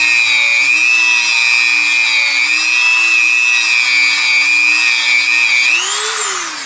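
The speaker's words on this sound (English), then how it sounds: "the final cleaning on these yokes is I use that wire wheel and a die grinder and just go around inside where that snap ring goes" A die grinder with a wire wheel whines at a high, steady pitch while cleaning the U-joint yokes of a 1997 Ford F250 Super Duty Dana 50 front axle, then winds down at the end; it is loud and close, with no talking.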